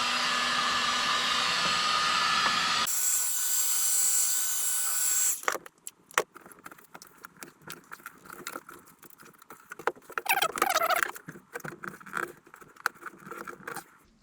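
A heat gun blasts hot air onto a BMW E39 headlight lens as a loud, steady blower roar that shifts pitch partway through. It then cuts off, followed by quieter clatter of handling parts.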